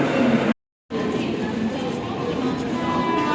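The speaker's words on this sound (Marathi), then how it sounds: "मुंबईची ट्रेन दादर स्टेशन" Steady rumble and rattle of a Mumbai local train in motion at Dadar station, interrupted by a brief silent gap, with faint voices in the background.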